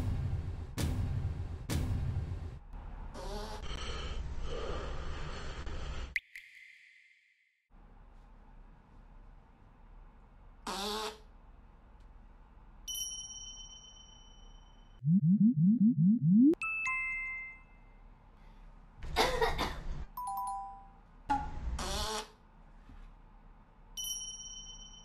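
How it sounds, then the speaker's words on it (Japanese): A fart sound effect is played as a prank during a Call of Duty session: a single low, wobbling blat of about a second and a half, set among scattered electronic dings and pings from the game. "トイレに行ったふりをしておならの音を流したいと思います。"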